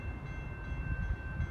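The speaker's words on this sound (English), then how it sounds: "The next inbound Metro train to Chicago is now arriving in your station." An inbound doubleheaded Metra commuter train pulls into the Riverside, Illinois station: a steady, heavy low rumble with a faint sustained high whine above it, no voices.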